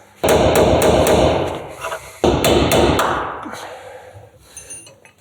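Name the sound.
hammering out a spot-welded piece of Lada car body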